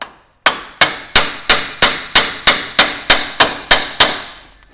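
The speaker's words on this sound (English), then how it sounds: "Switch over to my brass hammer." Twelve sharp metallic taps from a brass hammer ring out at a steady, even pace on a Land Cruiser steering knuckle, each one close and bright with a short ringing decay.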